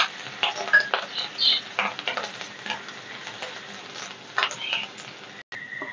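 Finely chopped garlic and ginger fry in hot oil in a pan, crackling and sizzling while a utensil stirs and clinks against the pan in uneven bursts.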